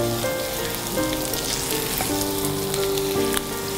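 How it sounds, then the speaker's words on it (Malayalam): Steamed kozhukatta dumplings, small as quail eggs, stirred in frying masala, a loud, steady sizzle with soft scraping of the spoon throughout and no voices. "സ്റ്റീം ചെയ്ത് വെച്ചിരിക്കുന്ന കൊഴുക്കട്ട, ചെറിയ കാടമുട്ട പോലത്തെ കൊഴുക്കട്ട, ഇത് നന്നായിട്ടൊന്ന് ഇളക്കുക"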